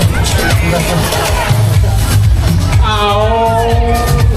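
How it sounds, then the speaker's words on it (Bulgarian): A dense crowd at the Kazanlak Rose Festival main parade cheers and whoops for a school director, a steady loud roar of voices with music-like tones rising near the end. "Аплодисменти за Цвета Милева!"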